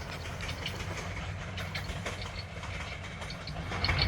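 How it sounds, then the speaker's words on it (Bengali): A passenger train pulls out of Melandah Bazar railway station, a steady rolling rumble with irregular iron clanks and rattling clicks, heard from trackside at moderate distance and swelling slightly at the end. "চলে গেল ট্রেন লোহালক্করের কি অদ্ভুত ঝনঝনানি শব্দ করে করে"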